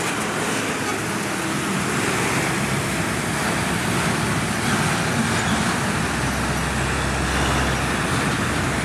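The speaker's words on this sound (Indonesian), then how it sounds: "Selain kendaraan pribadi, truk-truk besar juga ikut menambah kepadatan kendaraan." Heavy road traffic of private cars and large trucks at a holiday rush toward Bandung makes a dense, continuous roar and rumble. It stays steady and loud throughout with no clear single vehicle standing out.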